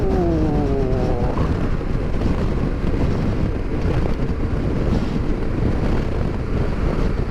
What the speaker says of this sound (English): By heck, it's windy today.